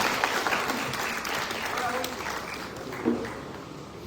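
Women in an audience clap together at a community event for women, a dense, steady wash of applause that holds throughout, with a brief louder swell near the end.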